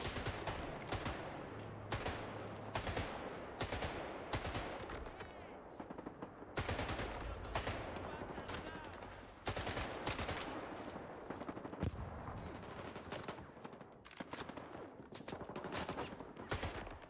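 Enemy gunfire in S.T.A.L.K.E.R. 2 on PS5, with bandits firing automatic bursts and single shots at the player. The bursts crack loud and near in a steady, irregular run through the whole stretch, with no talk over them.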